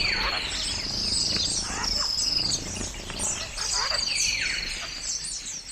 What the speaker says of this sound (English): And as they do so, you hear this amazing contact calls going on the whole time.